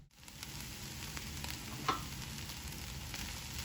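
Vegetables coated in oil fry for a vegetarian chili with a soft, steady sizzle and faint crackle, quiet and close, with one brief scrape of stirring midway.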